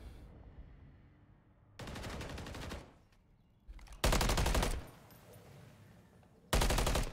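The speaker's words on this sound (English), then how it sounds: "Good shots from Xelios." Automatic gunfire in a Call of Duty competitive esports match, heard as three loud sustained bursts of rapid fire, the last two especially close and intense, separated by quieter game ambience.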